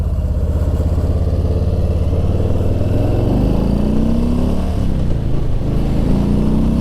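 A 2020 Harley-Davidson Softail Slim with the 107 engine pulls hard on the road, its loud, steady rumble rising in pitch as it accelerates, heard up close from the rider's position with constant wind and road noise.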